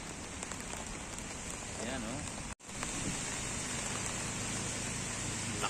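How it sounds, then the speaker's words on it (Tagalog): Heavy rain pours steadily with a dense hiss on a street in Barcelona, Spain, broken by one brief dropout midway. "lakas ng ulan grabe"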